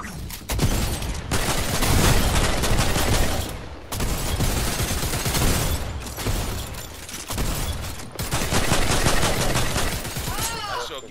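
Dense automatic gunfire rattles almost nonstop in a Fortnite match, loud bursts broken by brief pauses, with players talking over it.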